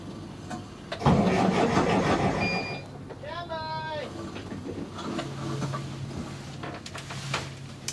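A diesel boiler heater aboard a sailboat tries to start, giving a rising mechanical whir and electronic beeps, then settles into a steady low hum, close and fairly loud, with brief voices around.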